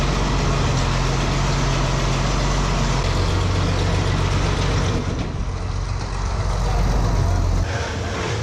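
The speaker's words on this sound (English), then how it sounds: "so I gotta use the skid loader today" A skid loader engine runs steadily and loudly at close range on a dairy farm, a constant low droning hum that keeps going throughout without any pause or letup.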